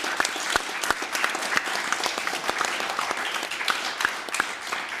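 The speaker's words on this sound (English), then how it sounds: "let's give a warm applause to this fantastic panel." An audience applauds a panel after a discussion on education in Ukraine. Steady, dense clapping from a moderate crowd continues throughout, with a few louder individual claps standing out.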